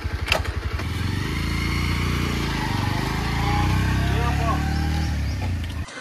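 A Bajaj Pulsar 125 motorcycle engine with a starting problem chugs nearby, sputtering at first, then settling into a steady low running rumble that rises slightly before cutting off.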